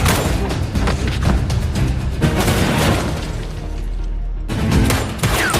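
Film gunfire: dense bursts of rapid shots and booming impacts, loud and close, with a brief lull before the shooting resumes, no talking.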